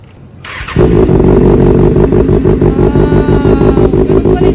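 A yellow-and-black Kawasaki Ninja motorcycle starts and settles into a loud, close, steady high-revving engine roar with a rapid throbbing pulse, no voices over it.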